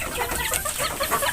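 A kampung chicken hen clucks in a brief run of rapid, close, fairly loud calls with no talking.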